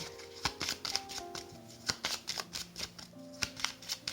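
Tarot cards being shuffled by hand in a series of quick riffling bursts with crisp papery slaps, close and fairly quiet, with no talking.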